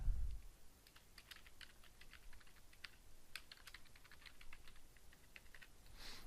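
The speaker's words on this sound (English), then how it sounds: "So if I need to type information for this image, I can just do that right here." Quick, light taps of typing on a computer keyboard click along irregularly at close range, faint and alone throughout.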